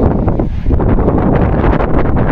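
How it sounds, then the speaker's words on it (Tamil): Strong wind at a high viewpoint near Al Ain roars steadily into the microphone, a loud continuous buffeting rush with no other clear sounds. "ஆனால் செம காற்றடிக்குதுங்க."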